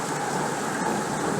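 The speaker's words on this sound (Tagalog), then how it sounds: "Yan, kumukulog oh." Heavy monsoon rain pours during a flood-season storm, a dense, continuous roar with a deep rumble of thunder underneath, loud and close throughout the short stretch.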